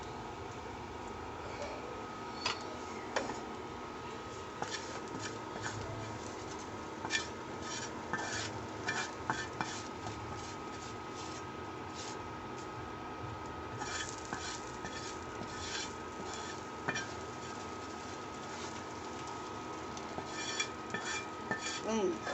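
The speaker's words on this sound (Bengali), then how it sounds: "ভাজা শেষ, এখন আমি এটা রামেনের ভিতরে দিয়ে দেবো।" Fried ingredients being stirred into a pot of buldak ramen, with steady scraping and clinking of a utensil against the pot under a faint sizzle, close and continuous with no talking.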